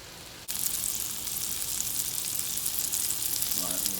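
Ground meat browning on a hot grill surface for nacho cheese dip, a loud, steady, close sizzle that starts abruptly and keeps going, with a faint scrape near the end and no talking.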